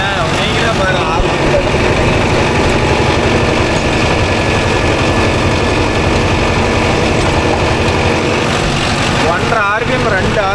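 A Mahindra Arjun Novo 605 DI tractor pulling a rotavator through solam farmland, its engine roaring loud and steady up close throughout, with a voice speaking briefly over the machine noise.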